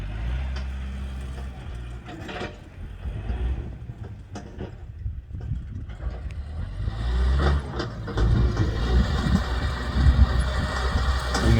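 A tractor's heavy engine rumbles steadily nearby in a rice field, with occasional mechanical clanks and hisses, growing a bit louder toward the end.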